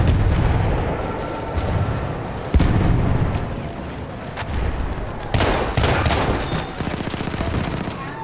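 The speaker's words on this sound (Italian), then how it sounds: "Attenzione, mitragliatrice nemica." Enemy machine gun fire in the Battlefield 1 video game, Monte Grappa operation: dense, loud bursts of automatic gunfire mixed with booming artillery and explosions, sustained throughout with sharp heavy impacts.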